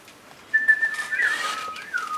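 Whistled birdsong imitation in a nativity play, clear high warbling tones that start after a short quiet moment, sliding and trilling like a small bird, close and fairly loud.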